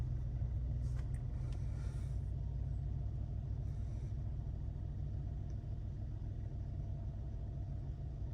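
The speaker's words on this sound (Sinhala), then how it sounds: "දැන් මේ කාර් එක ස්ටාර්ට් කරනවා." A Toyota Urban Cruiser Taisor idles quietly after a push-button start, a low, steady engine hum running evenly throughout with a faint clatter near the beginning.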